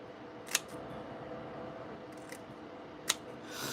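Paper model parts being cut out with scissors for a Star Wars Hammerhead build, heard as two sharp, isolated snips about two and a half seconds apart over a low, steady room hiss.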